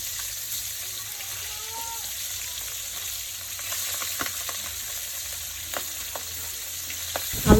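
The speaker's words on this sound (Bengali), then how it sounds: "মাছগুলো ভাজা হলে উল্টিয়ে দেবো" Pabda fish frying in oil, a steady close sizzle with scattered crackles and pops that grow sharper and louder toward the end.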